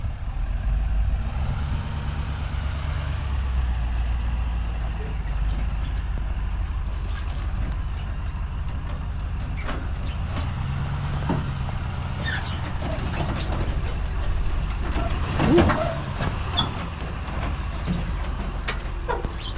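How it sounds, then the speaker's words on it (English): A tractor engine rumbles steadily as it is driven onto a trailer, a low continuous drone with occasional knocks and clanks over about twenty seconds, moderately close, with no talking. "Just to get the tractor on the trailer."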